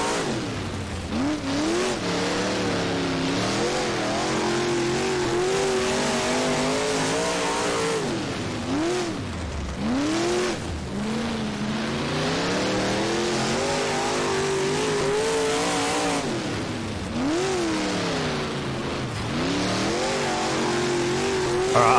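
Big Block race cars roar around the Ohsweken oval in rFactor, engines revving up and down in repeated swells as cars run side by side, loud and continuous with no voices.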